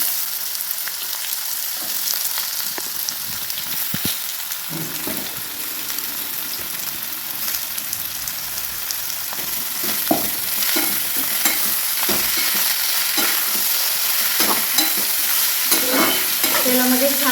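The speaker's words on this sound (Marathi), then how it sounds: "आणि आपल्याला अगदी बारीक गॅसवर हे फ्राय करायचं आहे. त्याच्यातच आपण हे काटलेलं भाजी सुद्धा टाकून घेऊया." Chopped tinda, or apple gourd, fries in oil over a low flame, giving a steady close sizzle broken by occasional soft stirring clicks and scrapes. No one speaks.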